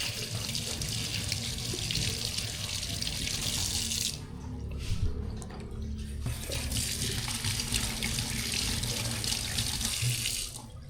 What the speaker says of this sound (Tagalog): Hugasan ko lang itong nakuha nating sili.